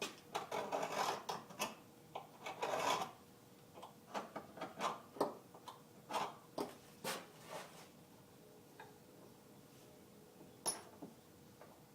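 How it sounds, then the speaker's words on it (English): A scratch awl scribes a knife outline onto a wood block: a close, quiet run of short scratching strokes, some in quick bursts and others spaced out, with pauses between them. "I'm going to take my scratch awl and I'm going to scribe the shape of the knife"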